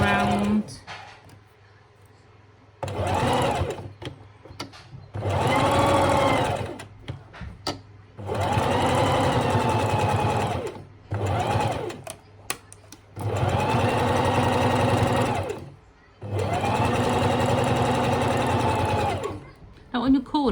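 Sewing machine top stitching fabric pieces of a plush dolphin toy, running in several bursts of steady fast stitching, each a few seconds long, separated by short pauses and close to the listener.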